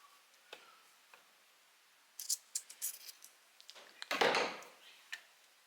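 Scissors snipping through fabric while sewing a Cassie Top bust cap, a quick cluster of close, crisp cuts followed by a longer slicing run, alone in a quiet room.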